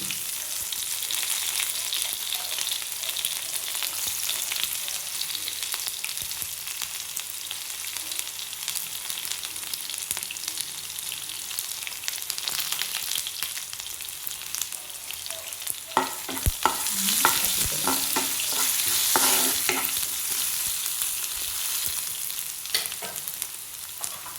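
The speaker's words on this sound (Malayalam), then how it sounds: "നമുക്ക് ചെറിയ ഉള്ളി ഇടാം." Small onions fry in a pan for a jackfruit seed thoran, producing a steady crackling sizzle throughout, with louder stirring and scraping bursts partway through and no speech.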